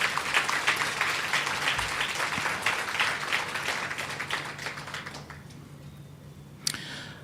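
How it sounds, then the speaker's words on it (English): Applause from the audience at a graduation ceremony for special education teachers, a dense steady patter of many hands that tapers off and fades toward the end, with one sharp click near the close. "Give them a round of applause."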